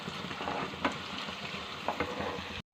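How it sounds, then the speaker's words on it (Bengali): Onions browning in a pan with salt for a dhaba-style egg tarka, sizzling steadily and close, with two brief stirring scrapes before the sound cuts off abruptly. "পেঁয়াজটা আমি ব্রাউন করে ভেজে নেব"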